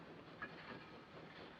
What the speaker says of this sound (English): The train is leaving.